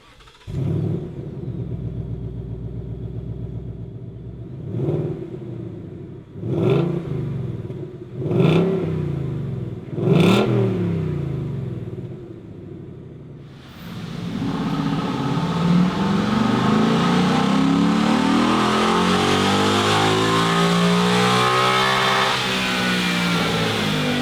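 A 2018-or-newer Ford Mustang GT with a completely stock exhaust idles, then blips through four sharp revs that rise and fall back to idle, before holding a loud, sustained high-rpm roar to the end.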